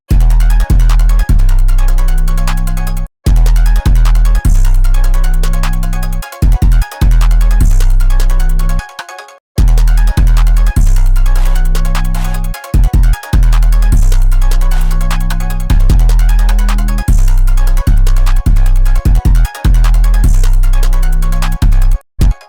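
A loud, steady hip-hop beat with punchy, hard-hitting drums and deep bass under a looping melodic pattern, with a couple of brief dropouts.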